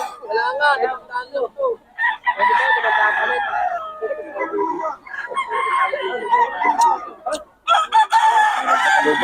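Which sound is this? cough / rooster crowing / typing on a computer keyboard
rooster crowing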